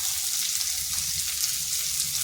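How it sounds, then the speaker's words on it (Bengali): Sliced onion fries lightly in oil over medium heat, giving a steady, soft sizzle that stays even throughout. "আঁচটা মিডিয়াম আঁচে করে পেঁয়াজটা হালকা ভেজে নিচ্ছি, যাতে একটু নরম হয়ে যায়।"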